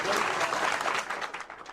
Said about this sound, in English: Reporters and hospital staff applauded Haynes and Dvorak as they headed home